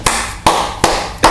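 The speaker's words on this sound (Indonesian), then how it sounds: "Tepuk tangan dulu." A few sharp hand claps sound on a podcast set, four evenly spaced slaps about half a second apart, close and crisp with no talk.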